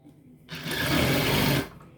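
A sewing machine stitches knit jersey fabric in a single steady whirring burst lasting about a second, close and clear against a quiet room, with no voices.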